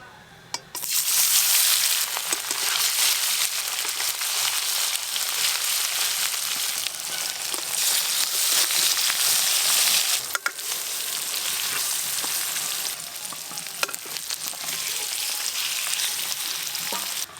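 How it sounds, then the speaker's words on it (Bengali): Spice-coated red bhetki fish frying in oil in a kadai, a loud, steady broadband sizzle that carries on throughout with a brief dip midway and occasional soft clicks. "মাছ দেওয়ার পর অল্প আঁচে কিন্তু মাছগুলো ভালোভাবে ভাজতে হবে"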